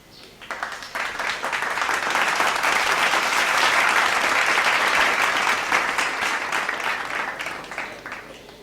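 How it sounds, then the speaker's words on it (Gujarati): Sustained applause from an audience greeting students on stage at a scholarship ceremony for higher studies, rising quickly and holding steady at full volume throughout. "જોરદાર તાળીઓ થઈ જાય સ્ટુડન્ટ્સ માટે."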